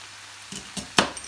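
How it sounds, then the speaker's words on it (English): A knife chops the ends off Brussels sprouts on a cutting board with three short, crisp knocks that come quickly and grow slightly louder, close by. "So what I'm going to do to these Brussels sprouts is I'm going to chop"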